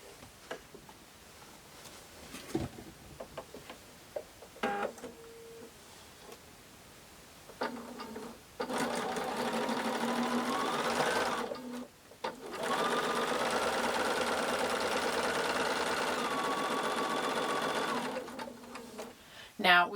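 Sewing machine stitching quilt blocks in long steady runs, starting with short bursts and building to two sustained whirring stretches, with quiet pauses and handling noises in between.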